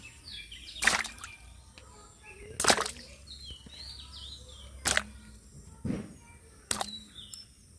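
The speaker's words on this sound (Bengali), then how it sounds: "কামরাঙাগুলোকে ভালো করে ধুয়ে নিচ্ছি" Star fruits are rinsed by hand in clean water, making five separate sloshing splashes spaced about a second or two apart against a quiet background, with no talking.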